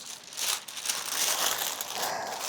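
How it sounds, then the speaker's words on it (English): Parchment paper crinkles and rustles steadily at close range as it is loosely wrapped around a mass of cut-up butter. "now I'm going to just loosely wrap it up in this parchment"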